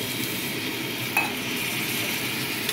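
A Kashmiri chilli spice paste fries with a little water in a pan for a parwal dish, giving a steady, moderate bubbling hiss with one brief metallic clink of a utensil midway; no one speaks.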